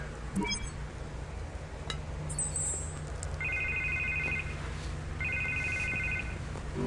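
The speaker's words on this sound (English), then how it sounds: "Pick up the phone, Harvey" Telephone ringing in a Batman video game: two faint, rapid trilling rings about two seconds apart, sitting low under a steady background hum and game ambience.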